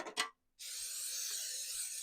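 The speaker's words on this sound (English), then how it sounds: "now we're gonna respray, just a light spray, our pan again" A light coat of cooking spray hisses onto a baking pan in one continuous burst after two brief rubbing sounds and a short pause, close and steady, with no talking.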